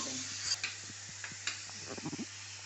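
Tomatoes frying in a pan for a paneer dish give a faint, steady sizzle, with a few soft stirring scrapes and clinks and a low hum underneath.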